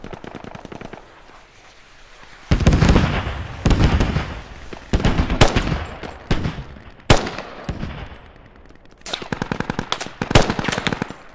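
Video game gunfire from an AK-type rifle and other weapons fires at an urban building, with loud rapid automatic bursts and single shots that cut in and out across the clip. No one speaks.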